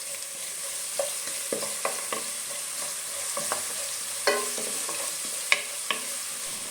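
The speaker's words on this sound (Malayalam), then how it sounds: "ഇഞ്ചിയും വെളുത്തുള്ളിയൊക്കെ നന്നായിട്ട് മൂത്ത് വരുന്ന വരെ നമുക്ക് ഇത് വഴറ്റി കൊടുക്കാം" Crushed ginger and garlic sautéing in oil in a pan, a constant soft sizzle under irregular scraping strokes and clacks of a spatula on the pan surface, close and moderately loud.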